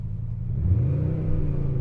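A car in sport mode revs its engine, the growl partly produced by an artificial sound speaker inside the cabin; a steady, close, low rumble swells slightly midway without any talk.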